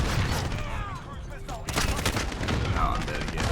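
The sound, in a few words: gunfire in Call of Duty video game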